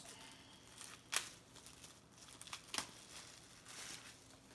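A cheap plastic bag holding GoPro accessories crinkles faintly while handled during unboxing, with a few sharper crackles and soft rustling in between, close and quiet, no talking.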